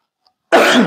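A single harsh, close cough bursts out after a moment of silence.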